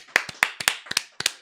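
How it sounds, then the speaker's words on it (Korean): A handful of sharp hand claps ring out at a church Thanksgiving service, sparse and uneven, over about a second and a half, with no voices. "우리 영광의 박수 하나님께 한번 돌리십시다."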